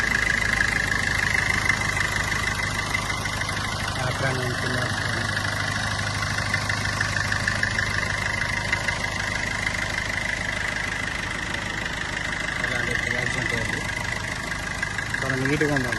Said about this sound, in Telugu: ఇంజన్ బీటింగ్ చూడండి.